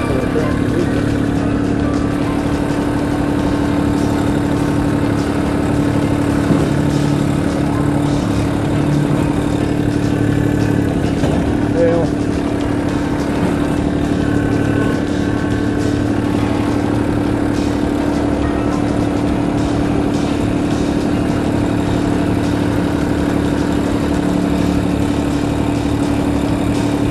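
A Kubota LX2610 compact tractor engine runs steadily throughout, a loud continuous droning rumble with no voices, during storm tree cleanup outdoors.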